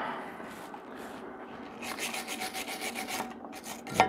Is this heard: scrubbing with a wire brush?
yes